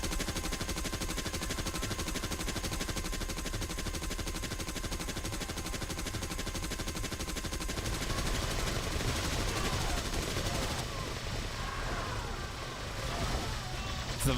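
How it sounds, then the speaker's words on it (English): Vulcan cannon in the video game Combined Arms firing in a continuous, dense, loud roar of rapid rounds, unbroken throughout with a slight shift in tone near the end. "The Vulcan cannon is just exceptionally loud."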